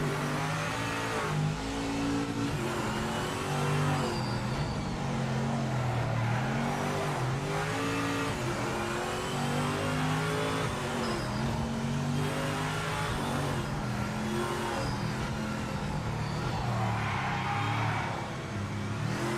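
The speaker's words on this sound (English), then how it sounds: "I love seeing this many cars on track." A pack of race cars in the Project Motor Racing video game roars around a track, engines revving and shifting continuously, with cars passing and occasional tire squeal, loud and unbroken throughout.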